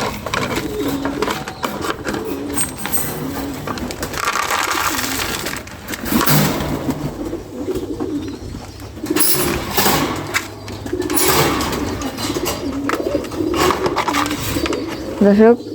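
Pigeons coo repeatedly in low, throaty bursts, close by, with a busy background of rustling and chatter throughout.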